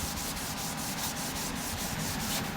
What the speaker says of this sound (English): There's quite a bit to it, especially here in this area I'm buffing right now.